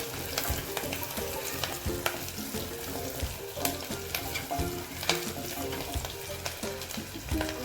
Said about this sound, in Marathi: आपल्याला कांदा बघा परतून घ्यायचा